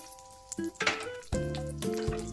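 Cashews, raisins and almonds sizzling in hot ghee in a pan for ghee rice, a close, steady frying crackle with brief stirring scrapes and a few louder bursts.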